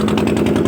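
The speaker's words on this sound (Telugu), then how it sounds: "దీన్ని ఏమంటారా? పడవంట." A boat engine runs steadily and loud near Kovvur close to Rajahmundry, a brief close-up of a low throbbing drone with no talk.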